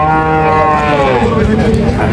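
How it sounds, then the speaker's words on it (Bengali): A dairy cow, Holstein Friesian crossbreed, moos loudly and close by at a cattle market, one long drawn-out low call with a busy background of other sounds. "দুধের জন্য বড় বড় গাভী এসেছে আজকে"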